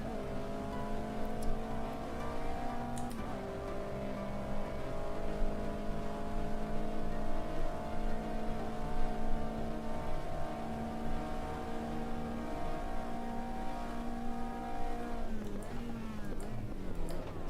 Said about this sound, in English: I think the engine sound of this car is really obnoxious. It sounds too compressed.